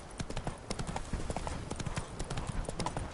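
Hooves of Roach, the horse in The Witcher 3: Blood and Wine, clip-clop in a quick, even trot, close and distinct, a continuous rhythmic patter for a few seconds without speech.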